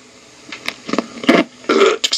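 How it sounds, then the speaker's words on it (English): A close, loud, rough burp comes in a few short guttural bursts over about two seconds, with no speech. "I burped."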